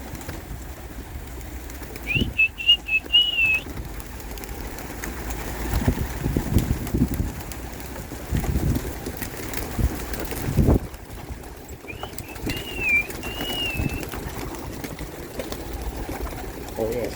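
Racing pigeons at feeding time give soft, intermittent coos and calls against wind and outdoor noise, with a person speaking at times.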